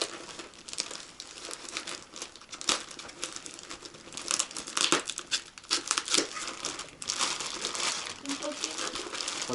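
A plastic package is unwrapped by hand, giving continuous close crinkling and rustling with sharper crackles and tearing-like bursts, fairly quiet and with a voice at times.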